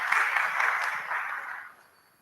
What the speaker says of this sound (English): Ladies and gentlemen, please a round of applause for Christine.